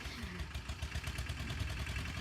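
A farm tractor's engine idles nearby, a low, throbbing chug with a quick, even pulse that holds steady throughout.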